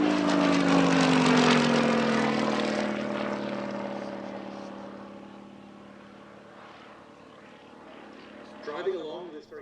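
A Percival Provost T1 military trainer aircraft from 1950 flies past at an airshow, its propeller engine droning loud and then fading into the distance while a commentator talks over it.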